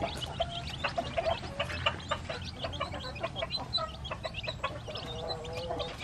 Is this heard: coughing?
no